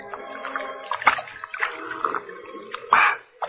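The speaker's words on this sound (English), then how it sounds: "throws himself at full length and greedily drinks from the river" In a radio drama scene, a large man lying at full length gulps water from a river, with close splashing and sloshing and a few sharp wet slurps amid moving water.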